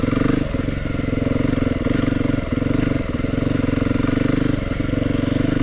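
A 2022 Beta 430 RR-S dirt bike ridden slowly, its engine giving a close, steady, throbbing thrum with a few faint clattery pulses and no strong revving.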